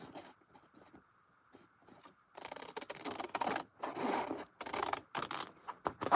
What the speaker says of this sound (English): Pulling out the big scissors.